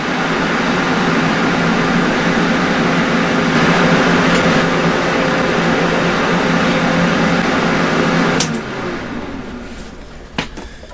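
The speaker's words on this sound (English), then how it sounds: "first time ever cutting with a plasma torch" Plasma torch, an Everlast PowerPro 205Si, cutting quarter-inch steel: a loud, steady roaring hiss that holds for about eight seconds, then cuts off abruptly, leaving quieter air flow with a couple of sharp clicks.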